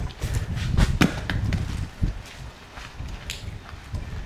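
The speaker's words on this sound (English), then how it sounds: "Gabby, you want to break a squash? Get all your frustrations out?" Squash broken apart by hand outdoors near a chicken coop, with several dull cracks and thuds at uneven intervals followed by quieter rustling.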